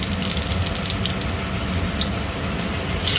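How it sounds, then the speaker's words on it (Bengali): Cumin seeds sizzle and crackle in hot oil in a home kitchen while jute leaves are being fried. The sizzle is close and steady, with small pops scattered across it, and no one talks. "তেলে দিয়ে দেবো জিরা"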